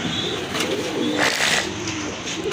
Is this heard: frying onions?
no